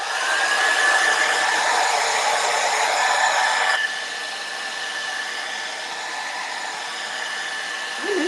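A hair dryer blows steadily on a painted craft pumpkin, a loud continuous whir with a high whine that drops slightly in pitch and volume partway through and then holds steady.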